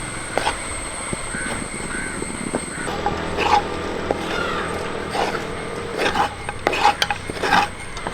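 Kerala-style soft rava upma is stirred in a pan with a spoon, giving scraping and light clinking strokes over a steady background hum, with faint voices at times.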